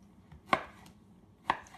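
A knife chops pizza ingredients into small pieces on a cutting board, two sharp separate knocks about a second apart, close and alone.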